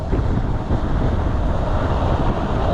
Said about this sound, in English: That's quite some wind here now.